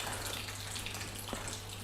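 Water flows steadily from a hose over coated car panels, a soft continuous hiss and gush at moderate distance with no voices.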